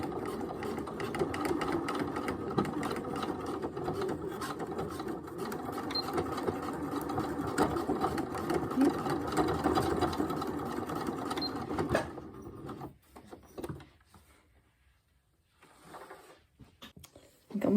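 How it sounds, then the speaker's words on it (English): A sewing machine stitches slowly across zipper tape and its teeth with a continuous, close, rhythmic whirring for about twelve seconds, then stops, leaving quiet handling noises and brief knocks. "under your little tab of fabric like this and sew across. You can sew right over the teeth, just go slowly and be careful."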